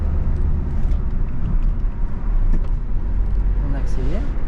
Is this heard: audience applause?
no